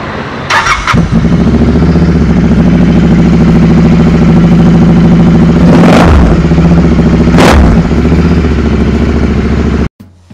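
A Royal Enfield Continental GT 650 motorcycle engine cranks and starts, then settles into a loud, steady close-up idle with a couple of brief rev bursts before cutting off near the end.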